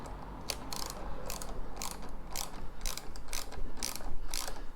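A nylock bolt being tightened with a 13mm spanner while fitting a light bracket, giving a steady series of about ten short, close ratcheting clicks in an even rhythm over a faint background hum.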